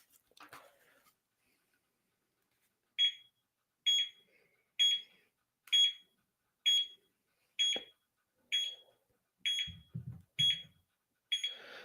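An Isomax isometric training device held under tension gives a steady run of about ten short, high electronic beeps at an even pace, faint and mostly alone, with a soft low thump near the end.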